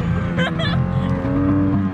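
An outboard motor on a pirogue drifting on the Maroni river revs hard with a rising, straining whine and a steady throb, while voices talk briefly over it.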